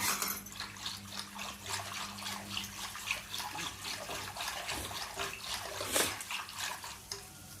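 Water is poured into a gram flour kadhi mixture while cooking, a steady splashing, trickling stream that runs close and fairly loud for several seconds with a brief stronger gush near the end.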